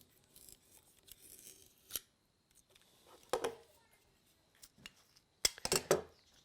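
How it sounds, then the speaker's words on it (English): A razor knife trims wild turkey feather fletching, giving a few sharp, faint snipping cuts and scrapes spread out between quiet handling noises, close by. "just going to take our razor knife and trim the edge of that off."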